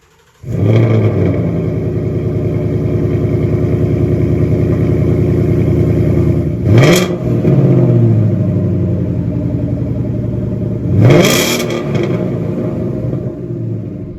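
A car engine with its exhaust resonator deleted starts and rumbles loudly at idle, with two sharp revs that rise and fall before settling back into a steady, throaty drone.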